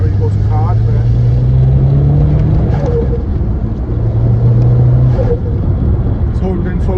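A Ford Escort RS2000 engine pulls hard under full turbo boost, a loud, steady droning rumble heard from inside the car with a voice speaking over it.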